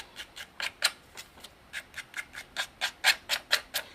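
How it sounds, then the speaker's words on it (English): Paper card edges being distressed with a distressing tool, giving a series of short, crisp scraping rasps in an uneven rhythm, close and fairly quiet, with no talking. "and then really distress the edges quite a bit."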